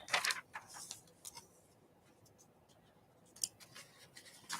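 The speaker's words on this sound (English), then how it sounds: "We're going to cut that right there." Scissors snipping paper to cut out pictures, a few quick crisp cuts at the start, another pair later and one at the end, close and fairly quiet with near silence between.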